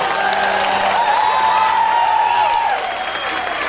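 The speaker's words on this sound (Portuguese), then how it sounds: "Palmas pra ele." An audience applauds steadily with a crowd murmur underneath, while a high sustained tone sounds over the clapping.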